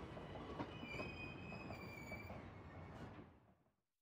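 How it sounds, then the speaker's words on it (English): A train in the video game Eastward rumbles and clatters steadily with faint high squealing tones above, then fades away to silence near the end. "We just get on the train."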